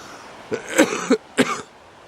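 A quick run of three or four short, dry coughs close by, with hoarse throaty bursts in quick succession and no speech.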